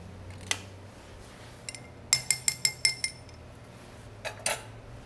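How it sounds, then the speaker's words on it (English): A large ice cube drops into a cocktail glass for a salted caramel old fashioned, giving one sharp clink followed by a quick run of bright glassy knocks and rattles, close and clear with no talking. "I'm going to add a nice big ice cube into my glass."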